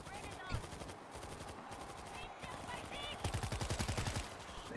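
Automatic gunfire fired from the hip in the video game World War Z, with rapid bursts crackling in quick succession, building into a dense, loud volley near the end amid chaotic game noise.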